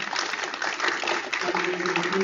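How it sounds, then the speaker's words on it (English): An audience at a broadband policy talk gives the speakers a round of applause, a steady wash of clapping lasting a couple of seconds with a voice speaking underneath. "Round of applause for the speakers here."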